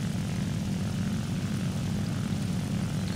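Propeller engine of a Spitfire fighter plane in War Thunder, a steady, loud droning roar with a strong low hum that holds constant from start to finish.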